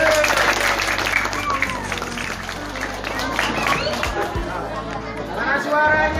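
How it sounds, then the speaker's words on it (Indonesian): An audience of schoolchildren claps and chatters at an Isra Mi'raj quiz competition, with loud applause mixed with lively crowd babble and voices throughout. "Tepuk tangannya mana?"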